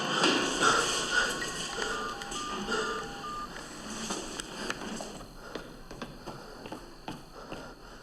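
A telephone number is dialed by keypad, producing a quick series of short DTMF beeps that sound faint and slightly distant, with light shuffling and tapping noises around them.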